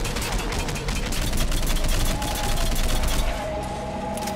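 Sustained rapid gunfire from the player firing at a Reaper harvester in Mass Effect 3, a dense, continuous stream of shots with faint talk beneath.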